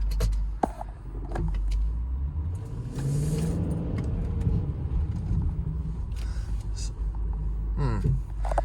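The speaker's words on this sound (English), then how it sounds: "All right, so let's take this for a quick little test drive." A 2006 Range Rover L322 engine rumbles steadily from inside the cabin while setting off on a test drive, with a low drone and brief revving swells throughout, plus faint clicks and interior noises.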